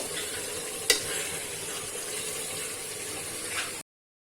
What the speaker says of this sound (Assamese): এতিয়া মাংসখিনি পানীটো শুকোৱালৈকে ভাজিব লাগিব